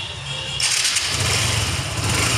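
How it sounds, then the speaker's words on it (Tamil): A used vehicle's engine starting up and settling into a steady, rough idle, close and loud, with a constant rattling drone and no talking. "இப்போ இன்ஜின் ஆய்ஸ்லாம் ஸ்மூத்தாக இருக்குது"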